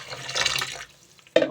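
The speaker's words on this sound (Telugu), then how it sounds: "ఇప్పుడైతే ఇలా హాట్ వాటర్ని వేసేసారు ఫ్రెండ్స్" Hot water pours and splashes onto fish being cleaned, a bright steady gush that stops abruptly, then a brief quiet gap and one short final splash.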